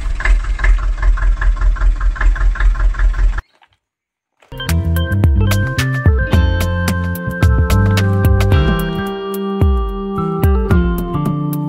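Cartoon mini tractor loading white cement: a loud, steady chugging engine idle with a regular pulsing beat, then a brief silence followed by a tonal musical jingle.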